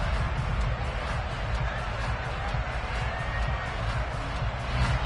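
Dense, roaring stadium crowd at an NFL football game against the Broncos, a steady broadband wall of cheering and noise that holds loud and constant throughout with no clear breaks.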